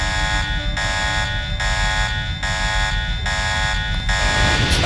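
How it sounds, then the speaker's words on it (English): A loud alarm buzzer in the Deus Ex Nameless Mod video game pulses in a steady on-off rhythm, about five harsh electronic blasts, each just under a second, with a low rumble underneath. "why is the alarm going off like..."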